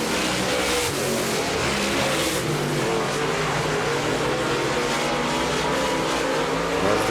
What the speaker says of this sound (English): we've got 3 cars pretty evenly spread out right now in our super late model feature event.